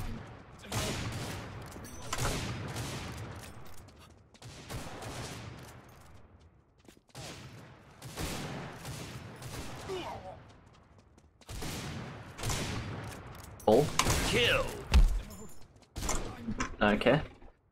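Bursts of gunfire in a free first-person shooter come in several loud clusters separated by short gaps, with one sharper rapid volley near the end and some game noise between them.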